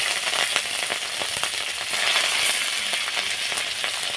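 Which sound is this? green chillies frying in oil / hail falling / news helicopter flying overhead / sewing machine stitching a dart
green chillies frying in oil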